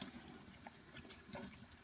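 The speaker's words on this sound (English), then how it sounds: "letting the water run through it until all that comes off" Tap water runs from a faucet through a makeup brush being washed with soap in a sink, a faint, steady trickle with small splashing flickers and a brief louder splash near the end.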